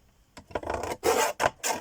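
A few short rasping scrapes of paper being cut into 2-inch strips for card making, four or five separate strokes, close and fairly loud with no talking.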